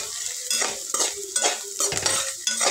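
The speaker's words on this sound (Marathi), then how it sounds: "चांगला कांदा सोनेरी कलरवर भाजून घ्यायचा आहे" Onion with salt frying to golden in a pan while being stirred: a steady sizzle with rhythmic spatula scrapes roughly every half second, close and fairly loud, with no talking.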